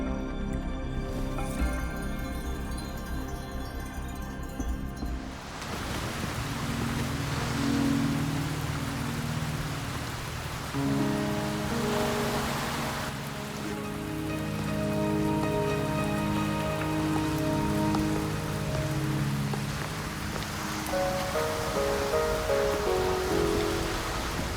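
Steady rain falls in the video game Wuthering Waves, a continuous dense hiss of drops on surfaces running throughout, layered with soft ambient music and no talking.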